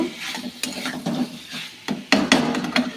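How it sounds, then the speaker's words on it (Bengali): Cauliflower and potato pieces being stirred and sautéed in a pan, with a soft steady sizzle under repeated scraping and clattering strokes of a spoon, close and moderately loud, with no voices. "ফুলকপিটা দিয়ে ভালো করে কষিয়ে নেব"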